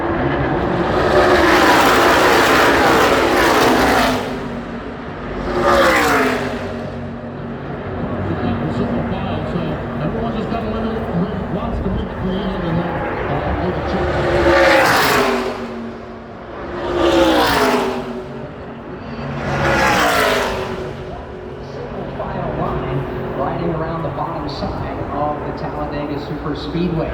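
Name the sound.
ARCA stock race cars racing at Talladega Superspeedway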